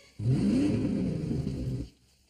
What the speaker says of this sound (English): That'd be a Ford 5-liter V8.